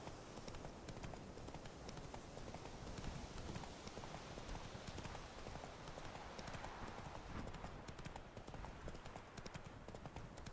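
Horse hooves clip-clop steadily in The Witcher 3, a faint, continuous trotting rhythm under a busy game soundscape.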